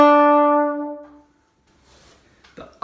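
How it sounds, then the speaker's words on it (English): A brass instrument, presumably a trombone, sounds one sustained bright note for about a second and then fades away, after which quiet rustling and handling noises follow. "We would play something called a fanfare that might sound like this."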